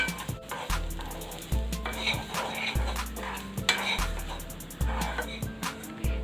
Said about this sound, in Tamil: நம்ம எடுத்து வச்சுருக்க தேங்காயை இதில் போட்டு வறுத்து எடுத்துடலாம்